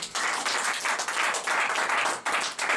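A church congregation at a Sunday service breaks into sustained applause, dense clapping from many hands filling the room, fairly close and loud with slight swells and dips.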